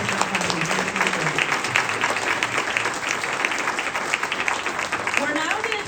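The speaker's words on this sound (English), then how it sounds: "Another big round of applause for answering all of those different questions." Sustained applause from a forum audience honoring Democratic primary candidates, dense and steady clapping throughout with faint voices mixed underneath.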